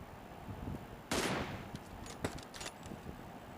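Gunfire in PUBG on the Erangel map: a loud, sharp shot rings out, then several quicker, fainter shots follow in a short burst against a quiet background.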